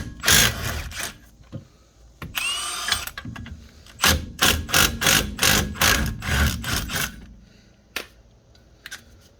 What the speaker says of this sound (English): Our caliper bracket bolts are a 17. Go ahead and get those out.